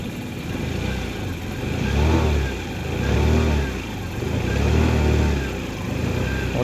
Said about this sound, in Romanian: Motorul sună foarte bine.